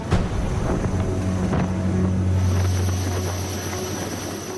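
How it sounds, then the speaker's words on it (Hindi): An Air Force helicopter flies overhead during a flood rescue, a loud, steady rotor and engine roar with a low drone and wind rush, sustained throughout with no talk. "आसमान में गड़गड़ाता वायुसेना का ये हेलीकॉप्टर"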